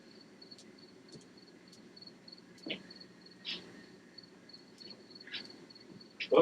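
Crickets chirp in a steady, high-pitched pulsing pattern, faint and monotonous against a quiet night background, with a few soft clicks and bumps.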